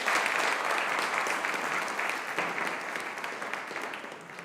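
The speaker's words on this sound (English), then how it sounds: "Please give him a round of applause." At a community arts concert, the crowd applauds steadily, a dense and fairly soft patter of many hands that keeps an even level through the whole stretch before easing slightly at the end.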